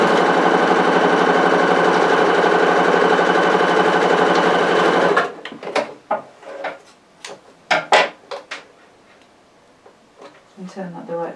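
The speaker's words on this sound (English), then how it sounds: "and then sew across the side, so I don't see a seam from the front" Home sewing machine stitching the side seam of a vintage-style apron, running steadily and loud for about five seconds before stopping, followed by fabric handling and small knocks.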